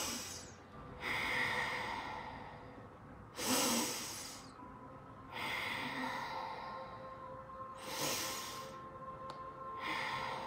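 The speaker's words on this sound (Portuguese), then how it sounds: "Agora eu quero que vocês façam essa respiração circular e conectada." Circular, connected breathing done as a healing exercise: audible breaths in through the nose and out through the mouth repeat in a slow, even cycle with breathy hisses and snorts, close and alone with no talk.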